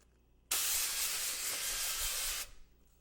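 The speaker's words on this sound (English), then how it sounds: "use this non-stick cooking oil spray here and just spray the parchment a little bit" A steady burst of cooking oil spray hisses onto parchment paper for about two seconds, close and loud, then cuts off abruptly.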